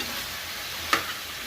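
Goat head meat pieces being stirred into fried onions and tempering in a pan, with a steady sizzling hiss throughout and one brief scrape of the spoon partway through.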